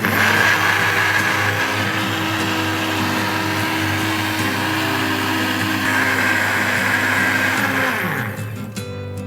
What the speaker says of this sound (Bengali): এখন আমি সব একসাথে মিশিয়ে সিঙ্গার ব্লেন্ডারে ব্লেন্ড করে নিচ্ছি